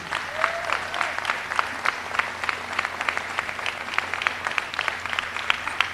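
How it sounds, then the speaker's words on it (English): An audience at a community center ribbon-cutting claps for Michaela, a moderate spread of distinct individual claps carrying on for several seconds, somewhat distant with a faint hum underneath. "Let's clap it up again for Michaela."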